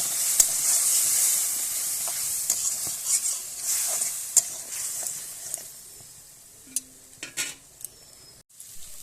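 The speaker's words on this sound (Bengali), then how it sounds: "এবার এই মশলাটা খুব ভালোভাবে কষিয়ে নেব" Masala of cumin and coriander powder with a splash of hot water is stir-fried in a pan for a bhangan fish recipe: a close hissing sizzle with repeated spatula scrapes and taps, tapering off toward the end.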